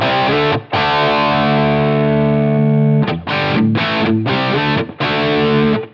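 Distorted electric guitar through a Line 6 Helix ADT tape-doubler effect set to 30 inches per second, one long sustained chord ringing out, then a run of short, choppy repeated chords, loud and alone.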